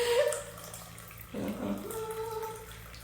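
Water poured for brewing tea indoors, a soft liquid stream starting partway through and running steadily at close range, faint and quiet, with a brief clink at the start and no speech.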